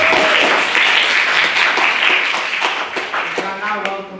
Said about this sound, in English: Can we get another round of applause for a maiden speaker?